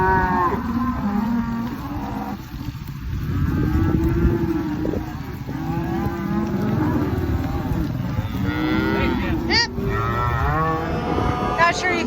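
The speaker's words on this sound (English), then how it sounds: "Moving some heifers home." Heifers being moved home on a farm, moaning moos rising and falling from several animals close by, over a steady rumbling engine drone, with a person talking briefly underneath.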